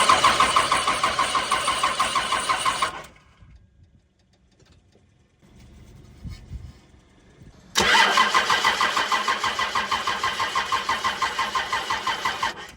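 A Cummins diesel engine with air being purged from its fuel injectors cranks in a fast, loud, rhythmic chug for a few seconds, pauses with faint clunks, then cranks again just as loudly and evenly.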